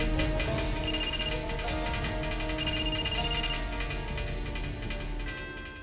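A telephone rings steadily and moderately loud, its tones repeating without pause, in a Hindi TV drama scene at home, with no voices over it.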